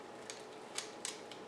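Scissors snip through orchid roots during repotting, three or four quick, crisp clicks spaced across a short moment over faint background hiss, no voices.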